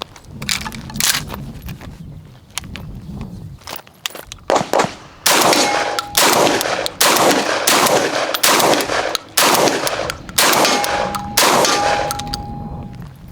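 Benelli M3 dual-mode shotgun firing Lambro 1350 FPS slugs: a string of loud, sharp blasts in quick succession, each followed by metallic clanks of the action cycling, with quieter handling noises beforehand.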